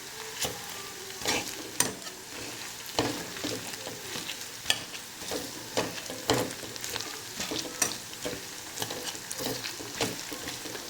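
Food frying in peanut oil with steady sizzling, while a utensil stirs and scrapes the pan in repeated clanks and taps, close and clear with no talking.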